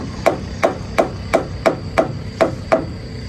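Hammering while building the large roof frame of a shop: eight sharp, evenly spaced strikes ring out close and loud, roughly three per second, with brief decay after each blow and no talking.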